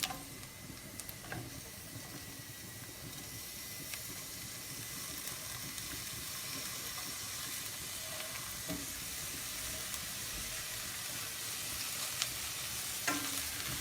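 Leeks, onions and carrots sauté quietly in a pan, giving a soft, steady hiss with occasional faint ticks and scrapes from stirring, and no talk throughout.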